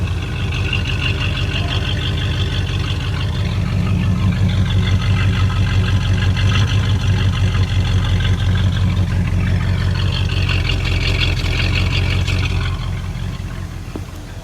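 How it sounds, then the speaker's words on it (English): A 1980 Camaro Z28 V8, running again after years of sitting, idles loud and close with a deep, steady rumble and a slightly uneven lope, easing off near the end. "Let her idle."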